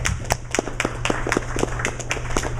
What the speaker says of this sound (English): Let's give Don a round of applause.